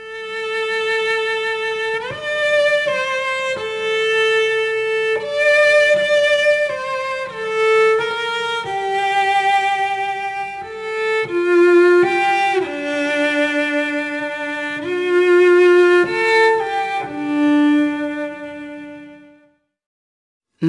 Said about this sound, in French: Voici le chant du violoncelle sans sourdine.